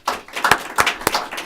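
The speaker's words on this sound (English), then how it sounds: "Give him a round of applause." Scattered claps from a small audience at a county budget presentation for the deputy chief administrative officer, several sharp hand claps ringing out irregularly over about a second and a half, fairly close and moderately loud.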